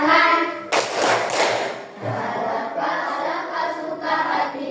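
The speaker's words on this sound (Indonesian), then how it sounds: "Suka hati tepuk tangan." Schoolchildren in a classroom clapping their hands together, a burst of loud claps followed by rhythmic clapping that continues on and off, with a voice talking over it.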